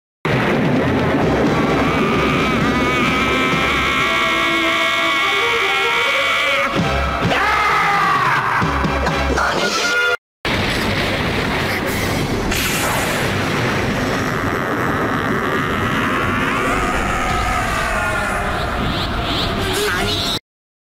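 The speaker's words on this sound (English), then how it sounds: "The original scream contains a more primal feeling, while Kai doesn't follow suit, and opts for a more traditional Nozomi scream with a deeper background sound along with it" A Super Saiyan transformation scream from Dragon Ball, original and Kai versions one after the other: a long, loud, strained male yell held under a deep rumbling roar and crowd-like din, then a second take with a deeper background boom.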